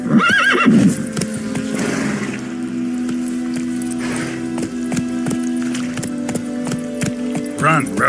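Roach the horse in The Witcher 3 gives a sharp whinny near the start, then hooves clip-clop in a steady galloping rhythm under background music and game sounds.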